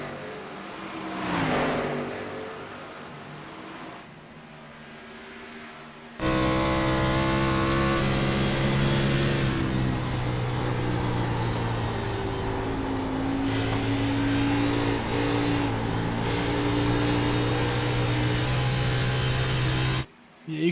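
Race car engines in a sim racing stock car game on the Monster Mile oval, quieter at first, then a loud sustained high engine drone at full throttle with shifting pitch until a sudden drop at the end.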